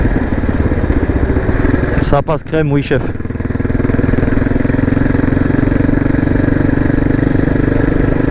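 A Suzuki 650 DRSE motorcycle engine running loud and close under a rider's speech, a steady throbbing drone with a brief surge and dip partway, then settling back into an even, sustained rumble.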